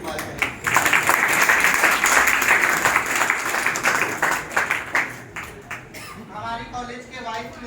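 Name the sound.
audience applause at a college Teachers' Day event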